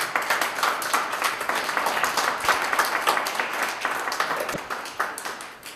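A memorial gathering gives a dense, close round of clapping that holds steady for several seconds before tapering off at the end.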